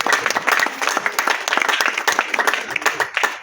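A church congregation claps to welcome a pastor couple at a house dedication, a lively burst of many hands with dense, uneven slaps close by and little talk.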